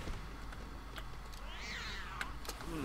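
A cat meows inside the Lego Harry Potter video game, one drawn-out rising-and-falling meow heard faintly over quiet game background sound.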